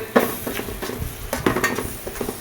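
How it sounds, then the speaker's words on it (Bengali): Spice masala of ginger-garlic paste, turmeric, chili powder and salt frying in a pan, stirred with a utensil that scrapes and taps irregularly over a steady close sizzle. "তো এবার মশলাটা খুব ভালোভাবে কষিয়ে নিব"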